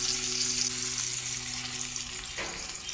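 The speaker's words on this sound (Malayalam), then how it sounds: "മീനും കൂടി അങ്ങോട്ട് വെക്കുന്നുണ്ട് വറുക്കാനായിട്ട്." Fish frying in hot oil gives a steady, fairly quiet hiss and crackle, with a low hum underneath that stops near the end.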